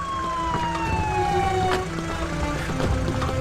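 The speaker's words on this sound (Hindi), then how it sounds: "आ गई एम्बुलेंस आ गई" An ambulance arrives with its siren wailing in a falling, sweeping tone over a busy, steady background of traffic and crowd noise, fairly close and clear.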